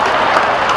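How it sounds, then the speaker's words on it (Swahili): Brief burst of audience clapping at a county youth engagement forum, dense and loud, with no voices over it. "Watu makofi yangu tafadhali."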